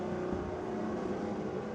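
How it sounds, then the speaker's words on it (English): A drag racing car at Sydney Dragway runs hot during a smoky burnout, producing a steady, dense engine drone held throughout without a break. "Just me on the engine note changing a little bit now as it gets super hot."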